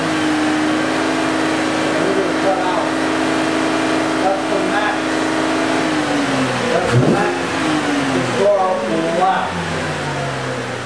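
A car engine on a workshop scan tool test revs up steadily, rising in pitch and holding high before dropping back, loud and near, with occasional talk from the technicians over the drone.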